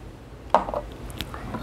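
A drinking glass is picked up and set down on a surface, giving a single sharp clink followed by a few light taps, close and otherwise quiet.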